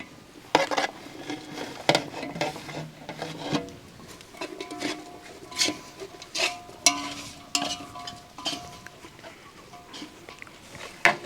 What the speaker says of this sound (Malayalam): ഇനി അതിലേക്ക് നമുക്ക് അരിഞ്ഞു വെച്ചിരിക്കുന്ന ക്യാപ്സിക്കവും തക്കാളിയും